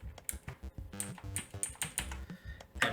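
Keys on a Kmart full mechanical keyboard are pressed in a quick, irregular run of close, crisp clicks and clacks.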